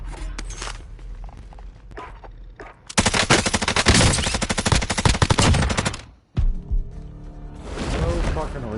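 Gunfire in the video game Call of Duty Warzone: a loud continuous automatic burst lasting around three seconds, cut off abruptly, with scattered single shots and game effects around it and a voice talking in places.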